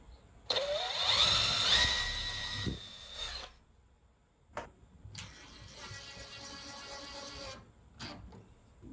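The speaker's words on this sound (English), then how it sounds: "do this at a slow speed because it's cedar, and I don't want to drill it all the way down into it" A power drill bores slowly into a cedar exterior door, whining up in two rising bursts, then a pause and a second longer, steadier run of drilling, all fairly faint and close.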